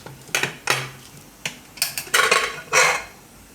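Pressure cooker of boiled chickpeas being opened in a home kitchen: a series of close metallic clinks and clacks of the lid and vessel, about eight sharp knocks in quick irregular succession, with no talk.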